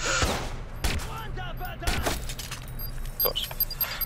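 Gunfire in the Watch Dogs video game, a burst of several sharp shots up front followed by scattered cracks and clatter, with someone talking over the action.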